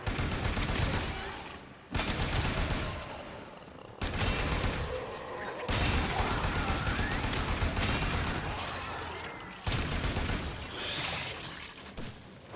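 Rapid bursts of gunfire from the Warframe video game, dense and loud with short pauses between volleys, layered with game effects over roughly twelve seconds.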